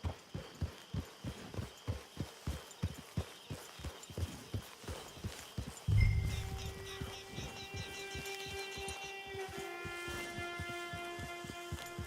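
Horse hooves clip-clop in a steady, even rhythm in Red Dead Redemption 2, fairly close, before the gait stops and a sustained musical tone and ambient game sounds take over.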